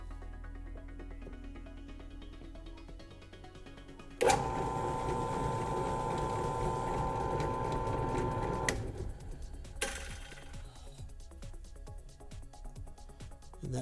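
A drill press bores a hole for a nut in a Boba Fett left vambrace part. Its motor kicks in abruptly with a loud whirring drone that runs a few seconds, cuts off, then briefly starts again before fading.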